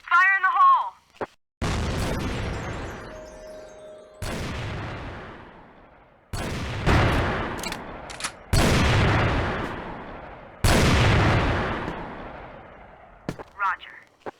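Loud grenade blasts and bursts of gunfire from the video game Crossfire, in a competitive league finals match, come as five or six heavy booms with decaying rumble, with a brief voice heard at the start and end.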